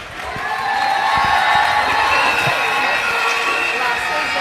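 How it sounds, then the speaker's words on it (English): A crowd at a university event breaks into applause mixed with cheering, whoops and shouting, building within the first second and holding a loud, sustained roar. "A round of applause once again."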